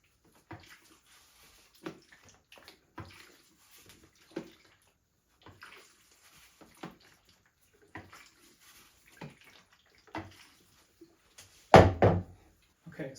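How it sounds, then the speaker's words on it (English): Black and white film developing tank being agitated: faint, scattered knocks and handling clunks, then a loud sloshing rattle as the tank is shaken near the end. "now we are going to agitate it for 10 seconds every minute for the next 60 minutes"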